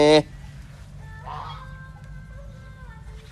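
A single loud, sharp goose honk at the start on a mixed farm, followed by quieter background noise and a faint, brief murmur.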